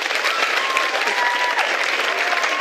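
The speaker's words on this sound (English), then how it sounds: "Yes, a round of applause is definitely needed" Dense crowd applause from an audience at the Surfer's Paradise MCUI event in 2013, steady and loud throughout with no gaps.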